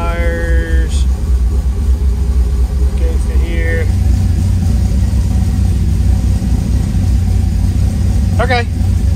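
A car engine idles steadily with a low, constant rumble while it runs lean, with brief tonal beeps from equipment and a voice talking over it.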